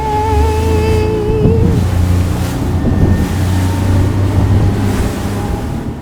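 A motorboat cruises out toward fishing grounds off Bowen Island, its engine droning steadily and loudly for the whole stretch under heavy wind buffeting and splashing water, with no talk.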